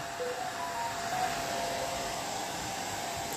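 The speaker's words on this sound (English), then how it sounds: "Bloody hairdryer gets it straight off" A steady, continuous hair dryer blowing with a constant airy whoosh and motor hum, unchanging throughout.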